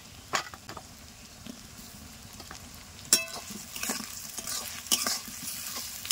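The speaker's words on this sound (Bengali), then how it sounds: "আলু আর পেঁয়াজ আমার অল্প করে ভাজা হয়ে গেছে" Potatoes and onions, seasoned with turmeric and salt, sizzle steadily in a pan for chicken kasha, with sharp clinks and scrapes of a spoon stirring through the frying.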